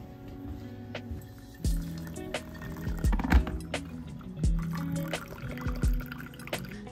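Water is poured through a pour-over coffee maker, giving a trickling, dripping liquid sound with several small clunks and splashes, close and moderate in level.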